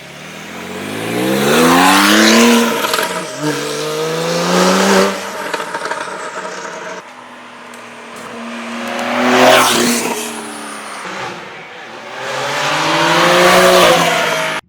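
A TechArt Porsche Targa's flat-six engine with IPE high-flow cats revs hard and repeatedly, pitch sweeping up and falling back in loud waves, with a brief lull between pulls.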